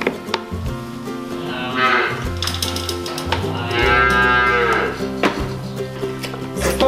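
A calf being treated for diarrhea moos several times up close and loudly, with long drawn-out calls separated by short pauses and no talking.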